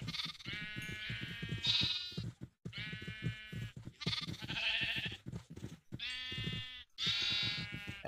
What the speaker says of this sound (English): I think that's all of the sheep that I can actually mate